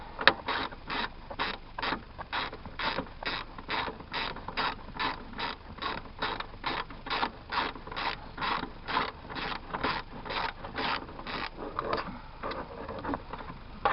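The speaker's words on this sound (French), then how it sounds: "on dévisse la vis. Voilà, vous voyez, cette grosse vis qui tient en fait l'attache de ceinture" A ratchet clicks in quick, regular bursts while a large bolt holding a car's rear-seat belt buckle is unscrewed, close and fairly loud with a repetitive mechanical rhythm and no talk.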